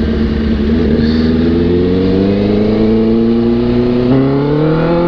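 A Honda CB650R motorcycle with a vibration issue pulls away on a test ride, its engine note rising steadily as it accelerates, close and loud throughout with no talk.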